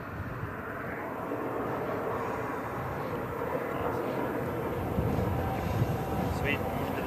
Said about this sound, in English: Exiting the high alpha pass in maximum afterburner, they'll roll a jet inverted and execute the split S